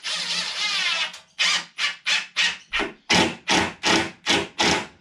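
A series of short, evenly spaced bursts from a screw gun as construction screws are driven through a plywood sheet into a wooden batten on a garage wall. A longer whir comes first, then about nine quick, loud pulses follow close by.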